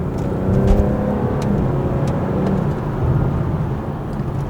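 A BMW B58 engine with a muffler-delete exhaust, valves open in sport mode, roars loudly from close by as it revs and pulls steadily, a dense throaty drone with slight rises, no talking.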